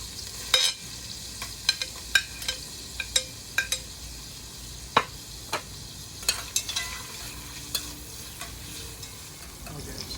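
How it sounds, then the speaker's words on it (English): Onions fry in hot oil in a pan with a steady sizzle, broken by sharp scraping clicks of a utensil stirring them, as the first step of Guyanese fried squash with shrimp; close and alone without talk. "so I'm frying my onion a little, so it gets a little brown."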